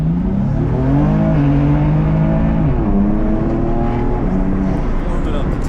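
A time attack race car weaves to warm its tires, the engine loud and close with rising and falling revs through short gear changes, steady road and wind roar beneath.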